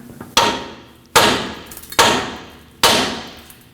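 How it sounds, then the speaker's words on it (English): Four sharp hammer blows ring out on a Nissan Frontier 2WD tie rod stud at the steering knuckle, each a loud metallic strike with a short decaying ring, spaced roughly every 0.8 seconds, close up and without talk. "Now hit this with a hammer and break free that stud."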